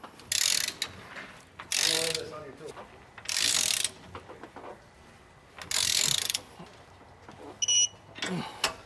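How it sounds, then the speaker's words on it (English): A wrench ratchets as it torques down steering stabilizer bolts on a 2005 Winnebago Adventurer motorhome, with several bursts of sharp clicking separated by short pauses and light handling noise, close by. "with my wrench get these torqued down properly"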